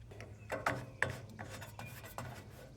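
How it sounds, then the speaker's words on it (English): Something scratches corrosion off the battery terminal of a Weber gas grill igniter, making faint, close rasping scrapes in short irregular strokes. "If there's any corrosion, scratch that off so you get good connection for the battery."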